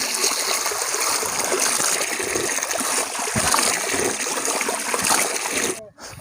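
Cold water flows through a village paddy field channel with a steady close trickling and splashing burble, continuous and moderately loud until a brief drop at the end.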